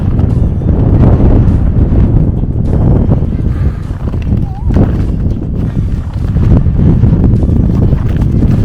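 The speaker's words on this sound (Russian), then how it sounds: "Здесь ветер дует перманентно." Strong wind on a mountain near Interlaken, Switzerland, buffeting the microphone continuously, a loud low roar with gusty fluctuations throughout.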